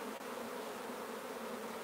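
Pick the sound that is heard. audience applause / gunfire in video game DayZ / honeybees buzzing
honeybees buzzing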